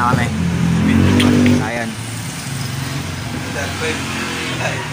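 A Yamaha NMAX scooter engine runs steadily at idle in a motorcycle shop, a low continuous hum beneath close, loud conversation.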